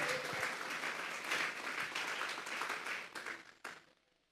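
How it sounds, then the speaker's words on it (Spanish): A church congregation at a Sunday service applauds in dense, continuous clapping for several seconds, heard from a little distance, ending in a few last claps and a sudden drop to quiet. "Denles ofrenda de palmas a Dios en esta hora"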